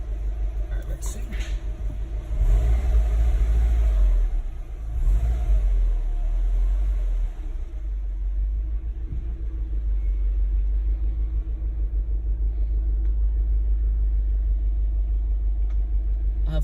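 A 2012 Subaru WRX fitted with a COBB short shifter rumbles on a test drive, a deep engine drone with a swell of revving early on, while someone talks over it.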